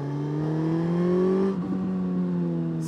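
A Suzuki GSX-S1000 GT motorcycle with its stock exhaust revving, a smooth rising engine tone that climbs and then drops back as the throttle eases, close and loud.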